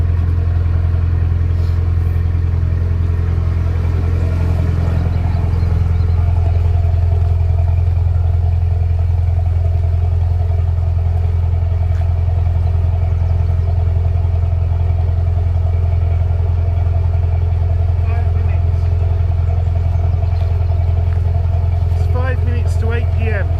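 A boat's inboard engine on the Norfolk Broads drones steadily and loudly, its low hum shifting slightly in pitch as it is pushed harder to charge the domestic batteries through a second alternator; voices are heard over the engine.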